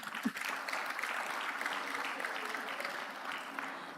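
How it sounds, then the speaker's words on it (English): Graduates at an executive programme ceremony applaud in a large room, a soft, fairly distant patter of many hands that holds steady throughout, with a faint voice or murmur underneath. "You can give yourself a warm round of applause."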